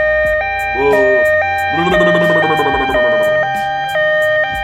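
A synthetic siren sound effect plays as a stepped, repeating electronic tone alternating between two pitches. Voices shout and sing loudly over it in the middle.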